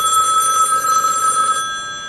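A desk telephone on a home lab phone system rings loudly and steadily with a bright electronic trill up close, then cuts off near the end.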